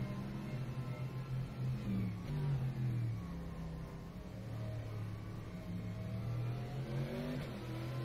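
A Mercedes AMG GT3 engine in rFactor 2, driven on a wet, rainy NOLA track, drones steadily at mid pitch, rising and falling with throttle through a continuous run close to the listener.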